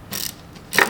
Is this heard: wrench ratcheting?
yes